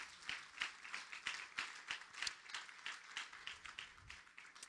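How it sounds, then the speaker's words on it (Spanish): A church congregation applauds, a faint, rhythmic clapping with evenly spaced claps in unison, sounding distant and continuing steadily. "Den un aplauso al Señor"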